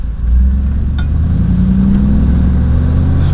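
A Mercedes G55 AMG engine idles loud and close, a low steady rumble with a faint rhythmic piston-slap knocking beneath it.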